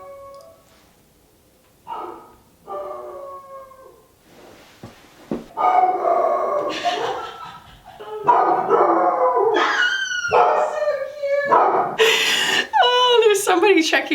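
A pet dog bays and howls like a beagle at something in the yard, bursts of barks building into long wavering howls, loud and close, with a person talking over parts of it.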